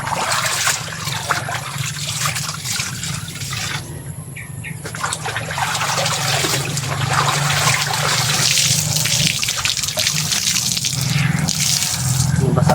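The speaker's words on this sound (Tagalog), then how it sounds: "Madali pong maglaba mga tol." Water sloshes and splashes steadily while laundry is washed by hand, a continuous wet churning close by, with a brief quieter dip partway through.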